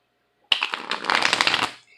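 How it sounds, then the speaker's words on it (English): Tarot cards are riffled in a quick shuffle, a dense papery flutter that starts abruptly and runs for over a second before tapering off, close and fairly loud with no one talking. "Just going to give these guys a quick shuffle."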